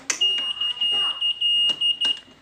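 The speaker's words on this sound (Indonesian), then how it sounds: "Dan sirinenya juga bunyi." A Yamaha NMAX 2020 scooter's anti-theft alarm emits a shrill, steady electronic tone broken by short clicks and beeps, close and loud, in brief pulses.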